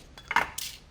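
A metal mini muffin tin is picked up and set down in a kitchen, giving a couple of brief, near clattering knocks with a metallic ring, no voices.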